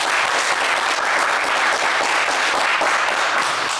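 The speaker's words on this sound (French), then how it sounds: "On peut vous applaudir très fort." Loud, dense applause from a television game show studio audience, continuous and even throughout.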